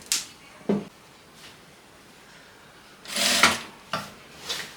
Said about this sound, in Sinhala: මෙන්න මේ කොටස් දෙක මට එකට තියලා මහගෙන යන්න පුළුවන්